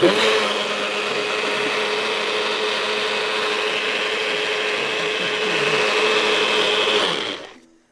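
A powerful blender churns chia coconut pudding with a steady, loud motor whir and grinding for several seconds, close by and uninterrupted, before the motor winds down and stops.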